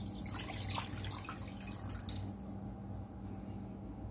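Water poured into a bowl while mixing maja blanca coconut pudding, a continuous splashing trickle that thins out partway through, close and fairly quiet.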